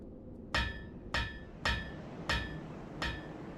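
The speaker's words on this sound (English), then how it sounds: "Giant blacksmith just hammering away." The giant blacksmith in Dark Souls Remastered strikes his anvil with a hammer, five loud ringing metallic blows at an even, unhurried pace, each fading with a short ring.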